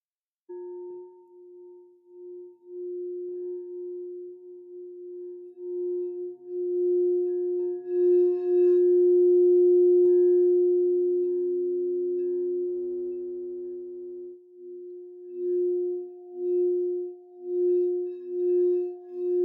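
A singing bowl rings with a steady, sustained tone and soft overtones that swell and fade over about twenty seconds. It sounds alone, with no talking.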